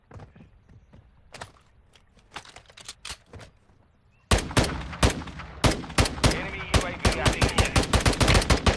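A gun in Warzone Mobile fires rapid, sharp shots, first as scattered quieter bursts, then as a loud near stream of rhythmic automatic fire.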